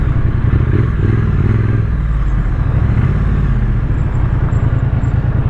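A Triumph Street Twin 900 motorcycle engine runs loud and close with a steady low rumble throughout, some mechanical clatter mixed in and no talk.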